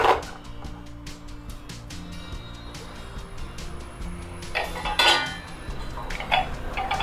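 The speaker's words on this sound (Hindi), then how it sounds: "अब ये जो केक टिन है हम इसमें रखेंगे" Metal clinks and taps as a cake tin is set down into a metal idli steamer with heated water, with a few sharper clanks among soft rattling.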